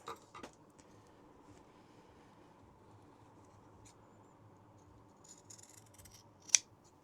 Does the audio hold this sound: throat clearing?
no